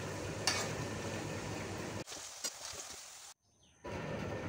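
Cauliflower pakoda frying in a pan, with a steady crackling sizzle as it is stirred, interrupted by a few scraping clinks and a sudden brief silence before the sizzling resumes.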